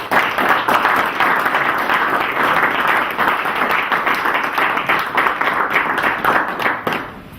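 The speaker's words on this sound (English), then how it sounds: "Let's give him a big clap." Steady applause from an audience at an International Men's Day 2013 event, dense clapping sustained for about seven seconds before tapering off at the end.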